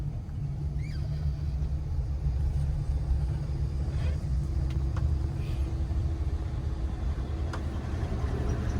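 Car engine idling and creeping in bumper-to-bumper city traffic during a driving lesson, a steady low rumble close by throughout with faint passing vehicle sounds.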